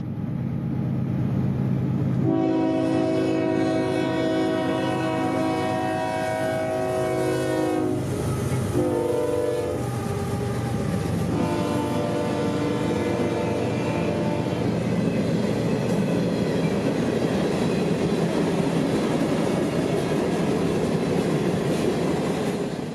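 A long freight train of nearly 200 rock cars on line L729 in central Georgia sounds its horn in sustained blasts near the start, then rolls past loudly with steady rumbling and clattering wheels.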